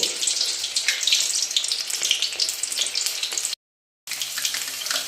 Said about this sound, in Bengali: এখন এই যে রসুন, আস্ত রসুনের কোয়াগুলো আমরা তেলের মধ্যে দিয়ে দিলাম।